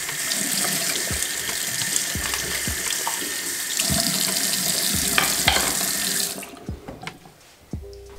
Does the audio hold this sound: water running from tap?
yes